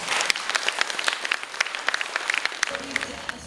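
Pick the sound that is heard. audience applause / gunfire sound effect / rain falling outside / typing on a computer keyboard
audience applause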